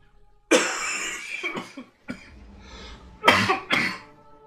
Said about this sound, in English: I try to catch my coughs when I can